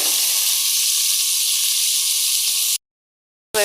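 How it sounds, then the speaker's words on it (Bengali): Potatoes frying in a generous amount of oil in a home kitchen: a loud, steady sizzling hiss runs for nearly three seconds, cuts to silence, then bursts back in at the end. "যেহেতু তেলটা একটু বেশি আছে, এই তেলে আমি আলুটা ভেজে নেব।"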